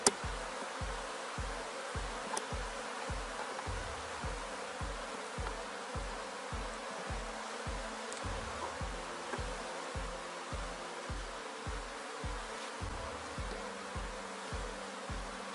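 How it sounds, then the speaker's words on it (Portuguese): Dense, steady buzzing of a honeybee swarm being settled into a hive box, heard close over a rapid, regular low thumping throughout, with no talk. "Agora, gente, vou organizar aqui o enxame"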